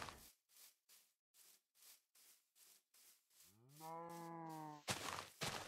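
Minecraft cows in the game world: a long, drawn-out moo with a rising harmonic sweep, loud and close, preceded by a series of short, evenly spaced rhythmic bursts and followed by a brief noisy rush.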